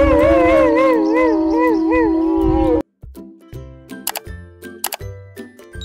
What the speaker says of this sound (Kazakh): Мынау қасқыр.